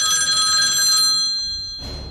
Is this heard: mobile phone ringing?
yes